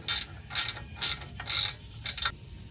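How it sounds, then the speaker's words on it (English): A ratchet wrench tightens a bolt on the rear of a Bad Boy Rogue mower's hitch or striper, in rapid clicking bursts of back-and-forth strokes, close and crisp with pauses between pulls. "Then I'm gonna just use a ratchet wrench to tighten the back too."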